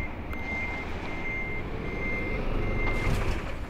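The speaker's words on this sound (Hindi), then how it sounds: "अब यहाँ पे बस खड़ी कर रहा हूँ यार मैं" A bus reversing into a parking spot in the Bus Simulator Indonesia video game gives a steady, repeating reverse-warning beep over a continuous low engine rumble, close and fairly loud throughout.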